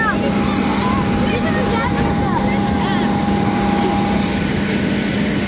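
A propeller airplane engine drones steadily and loudly from close by, a continuous throbbing roar with a constant tonal hum, heard from inside or beside the aircraft on a trip to Slovakia.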